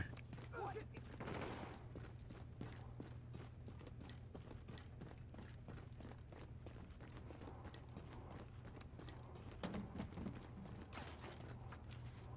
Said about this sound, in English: There's some gunfire happening out there.